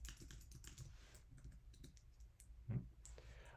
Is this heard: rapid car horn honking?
no